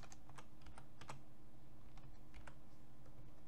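Computer keyboard typing with Tab presses while filling in an online form: a run of light, irregular key clicks, close and fairly faint, with no talking.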